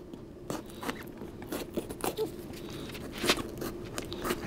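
Sweet peppers being cut open with a knife or scissors, giving a series of close, crisp crunching snips and cuts at an irregular pace against quiet room background.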